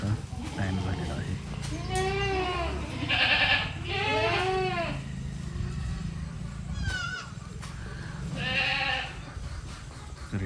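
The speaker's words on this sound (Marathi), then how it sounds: "सर्व शेळ्या वैरण खायची वाट बघत आहेत" Goats bleating repeatedly at a farm pen as feeding time approaches, several loud wavering cries in irregular bursts over a steady background murmur.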